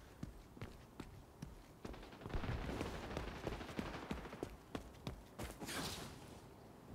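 Pistol gunfire in the shooter XDefiant, a series of sharp single cracks spaced irregularly across the stretch, layered over busy game ambience and movement noise at moderate level.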